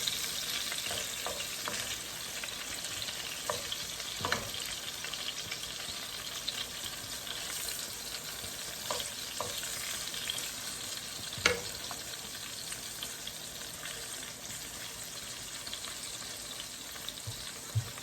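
Eggplant frying in a pan of hot oil gives a steady, dense sizzle lasting the whole stretch, with occasional louder crackles and stirring scrapes close by; no one speaks.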